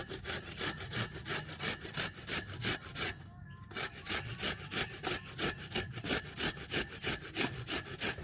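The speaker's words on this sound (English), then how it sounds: "I'll take one of my ash gourd cuttings and just grate it here." An ash gourd is grated by hand on a metal grater, close up, in fast regular rasping strokes with a short pause partway through.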